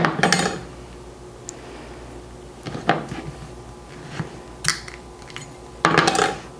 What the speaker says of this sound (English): Here we have our blanched peaches. Now I'm just going to cut them in half.